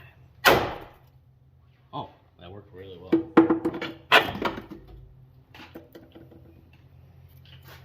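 Several sharp metallic hammer blows ring out on a car's upper control arm during suspension repair, spaced irregularly, with a person briefly speaking between strikes.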